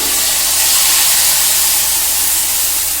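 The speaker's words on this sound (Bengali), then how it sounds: "এই বাটা মশলাটাকে আমি একটু কষে নেব বন্ধুরা" Ground spice paste frying in hot mustard oil, a loud, steady, close hiss of sizzling that fills the whole stretch without pause or talk.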